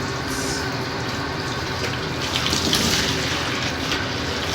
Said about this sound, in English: So I'm just going to rinse that now with some hot water.